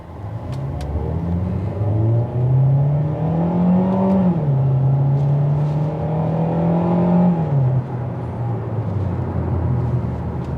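A Hyundai Sonata driven in sports mode accelerates with a loud, close engine drone whose pitch climbs, levels off and climbs again through the gears, steady and continuous without talk.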